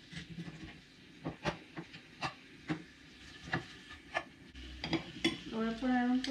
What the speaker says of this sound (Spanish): Lo voy a sacar y lo voy a cortar acá en la tabla.